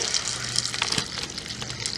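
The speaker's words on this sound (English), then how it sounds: "And I am going to pour just some water in there." Water gushes steadily and splashes as it is poured into a metal pot for cooking pinto beans, a close, continuous rush with no talking.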